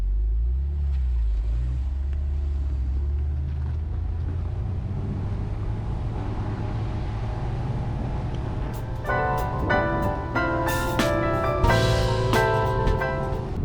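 A Porsche sports car, either a 997 GTS or a 991 Carrera 4S, rumbles low and steady as it drives off at moderate speed, with rattles and clicks joining later.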